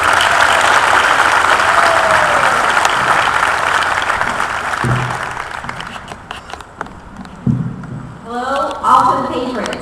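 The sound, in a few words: applause from audience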